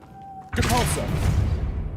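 A Depulso pushing spell cast in the video game Hogwarts Legacy, a sudden whooshing thud that bursts in after a quiet start and then rings on as a dense, fading rumble.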